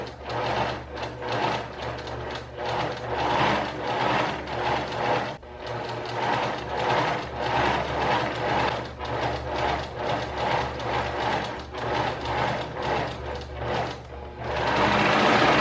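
A sewing machine runs steadily, stitching a gathered puff sleeve onto its cuff for a blouse, with a continuous mechanical whir broken by a brief pause partway and a louder burst of stitching at the end.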